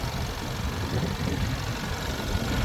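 A Ford Explorer engine idles with a low, steady, even hum throughout, a faint rumbling texture and no voices.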